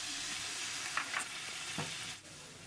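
Water goes into a hot pan holding a fried fish head for mung dal, and a continuous soft sizzle and hiss follows, with a few faint clinks from the pan.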